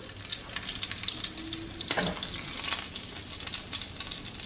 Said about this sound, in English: Let me turn this bacon. Flip the bacon.